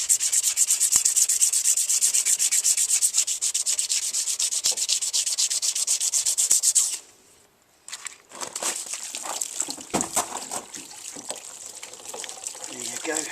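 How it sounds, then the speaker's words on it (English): Steady, close rubbing and sanding as paint is worked off a motorcycle part in a home garage, a continuous abrasive scrub that pauses briefly, then resumes in rougher, more uneven strokes. "Just gradually rub the paint off."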